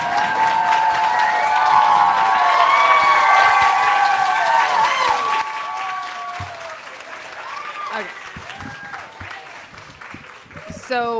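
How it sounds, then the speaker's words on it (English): An audience at a book presentation applauds loudly for about five seconds, then the clapping thins out to scattered claps under a voice speaking, with a brief burst at the end. "Let's give her a round of applause."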